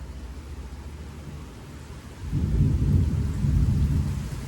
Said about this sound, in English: Getting into the heaviness of the rain.